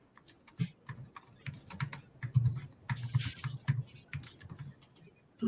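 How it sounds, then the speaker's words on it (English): Typing on a computer keyboard, a quick irregular patter of clicks and key strikes close by, continuous through the whole stretch with no talk. "She's typing."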